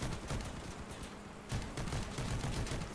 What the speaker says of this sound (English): Dude, shotgun's just shaving parts off.